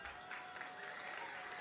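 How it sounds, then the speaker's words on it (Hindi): A crowd at an Om Vihar political rally applauds Chief Minister Arvind Kejriwal, giving a faint, even wash of clapping that sounds distant and continues steadily throughout. "आप तालियां बजाइएगा मुख्यमंत्री जी को देखने के लिए।"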